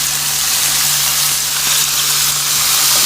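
Chicken breast sears in a cast iron pan with a steady, loud, close sizzle and hiss throughout, alone without talk.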